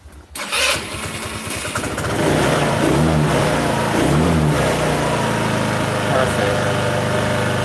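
A 125cc scooter engine starts up and settles into a steady, loud idle close by, with a faint voice partly buried under the running motor.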